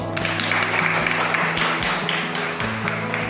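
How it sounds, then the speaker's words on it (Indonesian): Brief applause from a high school classroom for a classmate, light scattered clapping with some tapping, mixed with room noise and a low hum. "beri tepuk tangan untuk teman kamu"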